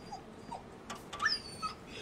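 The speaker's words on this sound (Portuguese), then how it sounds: "Tadinho do cachorro do Uau Uau." A dog whimpers in Resident Evil 4, giving several thin, high whines and yips close by over a quiet game background, with the louder cries coming near the middle.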